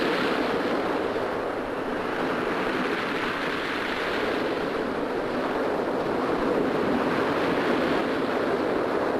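Ocean surf rolling onto the soft sand of Piha Beach, a steady broad wash of breaking waves with wind noise, constant and fairly loud throughout with no talk.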